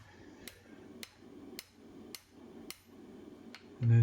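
Hammer blows on a hot set tool being forged to a taper on an anvil: about six evenly spaced sharp metallic strikes, close and moderately loud, ending in a louder thud.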